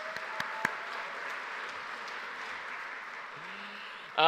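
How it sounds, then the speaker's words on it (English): Audience at a graduation ceremony clapping for a construction graduate, a fairly soft, even patter of applause with a couple of sharp claps early on and a louder burst at the very end. "Let's give our construction graduate a big round of applause."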